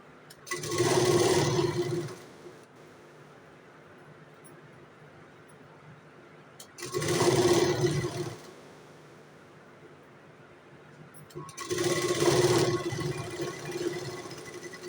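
An electric sewing machine stitches tucks on a 32-inch chest blouse in three separate bursts of a couple of seconds each, a close whirring hum with quiet pauses between runs.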